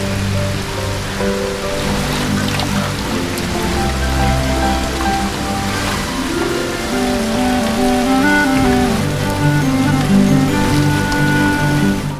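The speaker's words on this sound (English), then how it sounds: "he notices it has started to rain outside" Rain falls steadily outside a high-rise building on the 35th floor, a continuous hiss of drops on surfaces mixed with a dense, constant bed of ambient noise throughout, with no voices.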